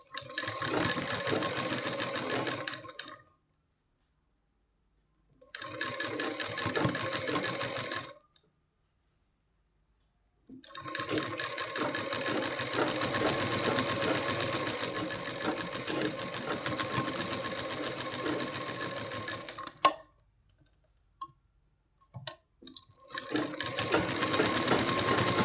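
A sewing machine stitches a blouse piece in three runs of fast, even mechanical clatter, broken by short silent pauses and a couple of small clicks between runs.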